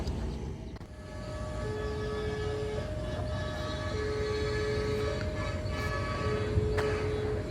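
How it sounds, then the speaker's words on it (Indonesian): A train rumbles past in the evening at Nagari Boyan, a loud, continuous roar with steady horn-like tones sounding over it, fairly close. "inilah kereta api melintas pada sore hari ini sekitar jam 6 di kawasan Nagari Boyan ini."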